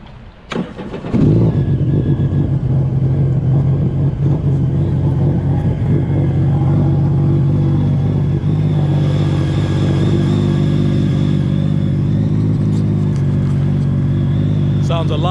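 A repaired Sea-Doo jet ski engine, once badly misfiring and now fitted with a Stage 2 setup, fires up after a second and keeps running loud and steady close by, with voices over it.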